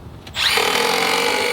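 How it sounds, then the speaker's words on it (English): A small power drill spins up and holds a steady high whine, loud and close, with no talk. "That little drill?"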